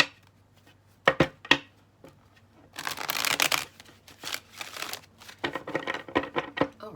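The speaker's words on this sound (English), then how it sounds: "Let's do one more shuffle." Tarot cards are shuffled by hand in a quiet room, a few sharp taps and then several seconds of soft riffling and crinkling rustle, close and fairly faint.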